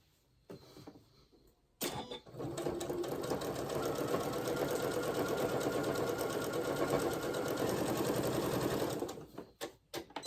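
A sewing machine tacks down potholder fabric in one steady, fast run of about seven seconds, close and even, then slows to a few last stitches.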